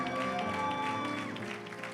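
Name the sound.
applause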